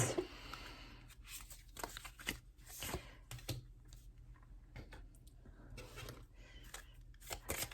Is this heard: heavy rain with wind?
no